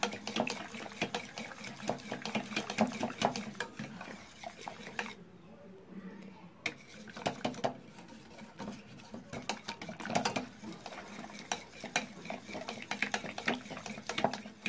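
An electric mixer whirs steadily through a homemade marshmallow mixture, dipping briefly partway through before resuming, close and continuous with some speech faintly present.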